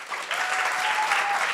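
An audience applauds steadily and warmly at a university talk on blockchain technology, with a dense, continuous clapping that holds throughout.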